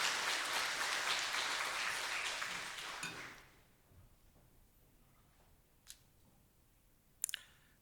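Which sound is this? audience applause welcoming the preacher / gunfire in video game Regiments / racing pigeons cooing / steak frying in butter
audience applause welcoming the preacher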